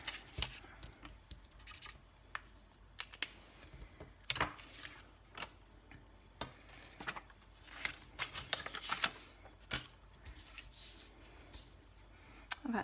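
Scissors fussy-cutting a stamped paper mermaid out for a coastal card, close irregular snips and paper rustles scattered through a quiet room.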